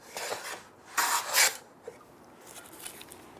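A hand plane shaves a wooden board in intermittent hit-and-miss passes, a few short hissing cuts of uneven strength separated by quiet gaps, close and without speech.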